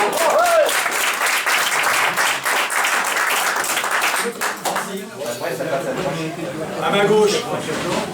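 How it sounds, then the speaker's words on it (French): Audience applause fills a French sports club gathering, steady and dense clapping from a sizable crowd for several seconds, with a voice talking over it near the end. "Voilà, on peut l'applaudir."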